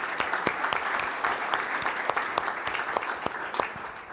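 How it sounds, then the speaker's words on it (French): An audience at a conference on building digitalisation claps steadily, with many hands applauding together at an even level for a few seconds. "il faut les applaudir"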